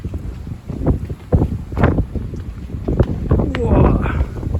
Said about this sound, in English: I'm being by the river, it's a bit windy